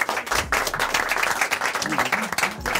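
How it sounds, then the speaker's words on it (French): Brief applause for quiz contestants at a rap quiz show, a short burst of clapping with some crowd noise and voices underneath. "On peut les applaudir."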